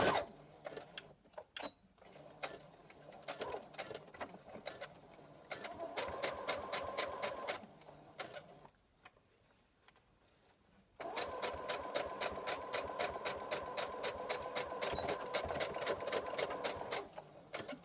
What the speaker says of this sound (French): sur la machine, vous êtes en point droit et vous allez fixer le papillon l'un sur l'autre.